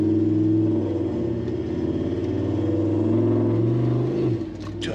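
A 79 Series truck with an 8-speed conversion accelerates hard with a loud, deep, steady engine drone heard from inside the cab, easing off toward the end.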